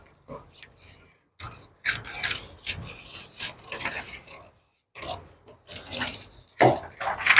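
Scissors cutting through blouse fabric at a tailoring table, a series of close snipping and rasping cuts in irregular bursts with short gaps, a voice talking quietly in between.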